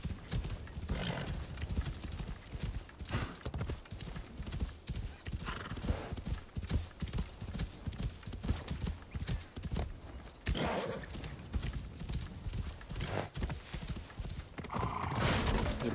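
Pony hooves clip-clop in a video game, a quiet steady trot with occasional whinnies, under light talk.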